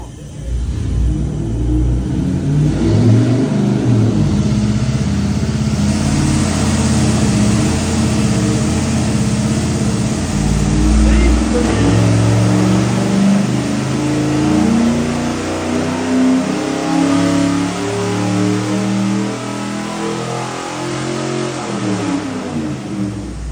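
A car engine on a test at an automotive lab revs hard at full throttle, a loud sustained roar with rising and falling pitch that fills the whole stretch, close and continuous with no talk.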